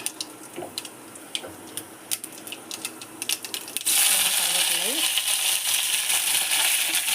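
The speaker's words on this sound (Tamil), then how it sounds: "கொஞ்சமாக எண்ணெய் ஊற்றி கடுகு போட்டு" Mustard seeds splutter and pop in hot oil for coconut chutney tempering, with scattered crackles that are soon followed by a steady loud hiss.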